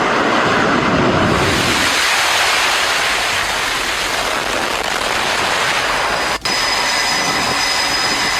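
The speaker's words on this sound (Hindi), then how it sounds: "जिससे ऑपरेशन फ्यूरी के तहत अमेरिकी लड़ाकू विमान उड़ान भर रहे हैं।" Loud, continuous broadband roar of US fighter jets launching from the aircraft carrier USS Abraham Lincoln, a sustained jet-engine blast filling the whole stretch with a brief dip near the end.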